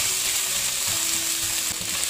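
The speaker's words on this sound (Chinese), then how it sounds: "煎至差不多的时候，我们用铲子把鱼肉给它捣碎。" Small crucian carp sizzles loudly in sesame oil in a pan while a spatula mashes the fish flesh, a steady close frying hiss with soft scraping and stirring underneath.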